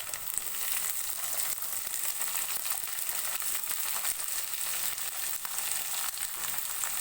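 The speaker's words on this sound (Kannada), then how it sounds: "ಇವಾಗ ಇದಕ್ಕೆ ನಾನು ಒಗ್ಗರಣೆಗೆ ಬದನೆಕಾಯಿ ಹಾಕೋತಾ ಇದ್ದೀನಿ ನೋಡಿ" Brinjal pieces sizzle and fry in hot oil with tempering spices for a Kannada-style brinjal gravy, a steady close crackling hiss that runs evenly throughout with no talk.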